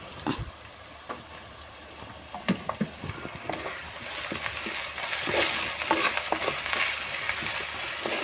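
Ginger, green chili, garlic, onion and curry leaves fry in a pan with a soft steady sizzle, broken by intermittent scraping stirs and taps of a spoon, close and quiet.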